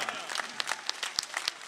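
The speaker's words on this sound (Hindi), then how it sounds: "जोरदार तालियां, शानदार तालियां," At a political rally in Datia, the crowd claps for a party leader in loose, uneven bursts, individual sharp claps standing out over a thinner spread of hand-clapping.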